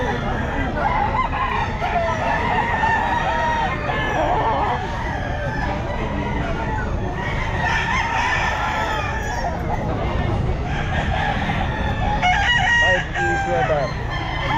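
Several sweater gamefowl roosters crowing and clucking at a pet market, repeated overlapping crows near and farther off, with people talking throughout.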